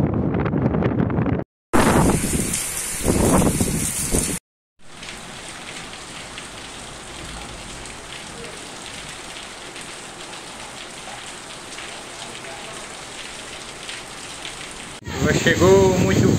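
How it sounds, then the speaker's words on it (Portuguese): Heavy rain pours steadily with gusting wind buffeting the microphone in Panguaçu, in Brazil's Northeast, loud and close, with brief cuts and a voice at the start and end. "Chegou muito vento aqui em Panguaçu, muita chuva"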